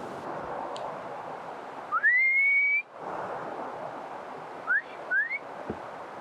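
A person whistles outdoors by a river in the woods to call a dog back. One long rising note that holds steady is followed by two short upward chirps over a steady rush of water.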